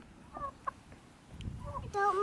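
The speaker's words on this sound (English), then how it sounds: "Cockerel's looking handsome as ever." A farmyard cockerel crows near the end, a loud harmonic call rising over soft background clucking and scuffling from chickens, with brief quiet voices earlier.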